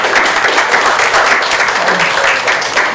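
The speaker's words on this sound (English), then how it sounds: "I think we should give them a round of applause." A town public meeting audience applauding steadily, dense hand claps blending into a continuous loud wash with no voices standing out.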